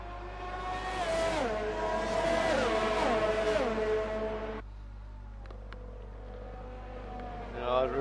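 F1 race cars in a racing video game on the Bahrain circuit, engines roaring loudly with pitch sweeps as they brake and shift into the back straight, the roar cutting off abruptly partway and a quieter engine note following under a commentator's voice.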